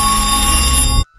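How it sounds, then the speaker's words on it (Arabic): A telephone rings loudly and continuously, a bright electronic trill heard up close, then cuts off abruptly into silence. "التليفون فجأة يرن"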